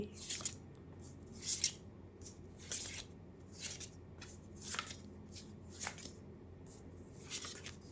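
Tarot cards are shuffled by hand in a quiet room, repeated short crisp riffles and slaps coming in irregular bursts, close but soft, with no talking.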